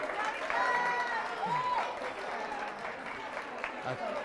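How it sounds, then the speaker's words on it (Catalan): Studio audience on a Catalan TV word quiz show clapping in encouragement for a contestant, a moderate, fairly distant round of applause with a voice talking over it. "Aquests aplaudiments són d'ànim i són per tu."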